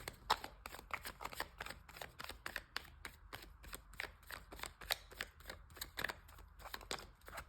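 Tarot cards being shuffled in quick, crisp riffling bursts, a dense run of sharp papery snaps close up and fairly quiet, with no talking.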